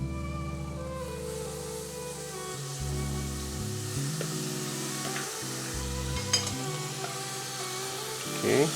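Chopped methi (fenugreek) leaves with dry spices sizzle steadily in a hot pan for aloo methi, a loud, continuous frying hiss close up with a few stirring scrapes near the end.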